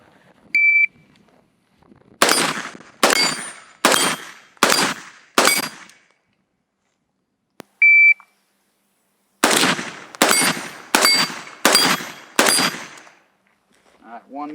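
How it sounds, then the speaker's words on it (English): Five sharp rifle shots ring out against AR550 steel plate targets at an outdoor range, each crack followed by a bright metallic ring, then after a pause a second quick string of shots with ringing hits; brief electronic beeps sound between them. "So I'm going to fire 5 rounds, 1 on each plate."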